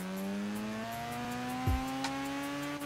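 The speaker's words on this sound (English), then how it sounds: "I got it all the way up to max RPM I could do, so you can hear the full range of the engine." A Mazda RX-7 FD rotary engine in Forza Horizon 3 revs with a smooth, rising buzzy whine, its pitch climbing steadily across the run, with a short burst of tire noise partway through.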